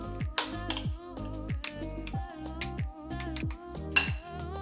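A spoon scraping and clinking repeatedly against a bowl as beef is mixed with salt and plenty of pepper for a marinade, a quick uneven rhythm of close, bright knocks.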